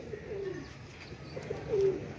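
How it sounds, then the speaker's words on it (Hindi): A pigeon coos close by, two soft throaty coos about a second apart over a faint background hiss. "ये कबूतर का जरा शौक करें"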